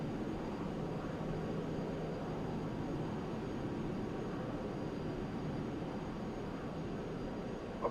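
Jet airliner engines in Flight Simulator X roar steadily through a takeoff roll, a loud, continuous, even rumble with no voices.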